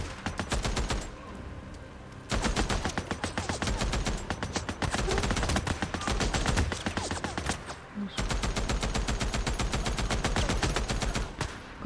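Rapid bursts of automatic gunfire in the video game Days Gone, loud and close, firing in long sustained volleys with a couple of short gaps before the shooting resumes.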